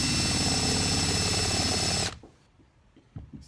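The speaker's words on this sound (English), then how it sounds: "do this in a regular drill though. And make a little hole there." An electric drill bores a small hole into hardwood at a workbench, a loud steady whine for about two seconds that cuts off abruptly, followed by faint handling clicks and knocks.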